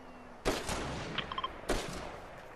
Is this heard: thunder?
no